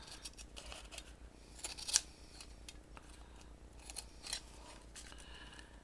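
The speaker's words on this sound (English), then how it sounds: "take your scissors," Scissors trim the edges of paper pieces for a journal cluster, making a few quiet, crisp snips spaced apart in an otherwise hushed room.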